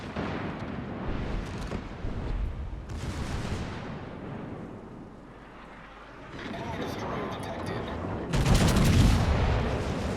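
Naval ship guns firing shells in a warship video game, heavy booming salvos and rumbling blasts that swell and fade, with someone talking over much of it.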